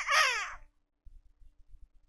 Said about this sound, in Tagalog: Tapos mamaya may uwak dadating.